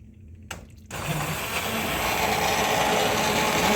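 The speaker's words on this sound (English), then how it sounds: "or you can blend it up and make it creamy smooth, which that's what I'm going to do" A kitchen blender starts up after a brief quiet moment and runs steadily, whirring loudly and continuously as it purees hot tomato soup until smooth.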